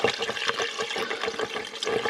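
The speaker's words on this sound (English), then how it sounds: "You can pour in the antifreeze we tried to save out of this." Antifreeze is poured into a new high-performance radiator on an old Jeep, a steady close splashing gurgle of liquid with slight rhythmic surges and no talk.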